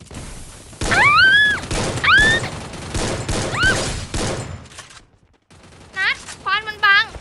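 Gunfire from the Free Fire video game, with bursts of shots mixed with whistling, tonal game effects and a few sliding chirps, loud and close, followed by a short lull and then a rapid run of warbling electronic tones.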